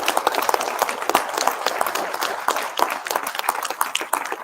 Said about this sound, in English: These 2 ladies here, give them a round of applause.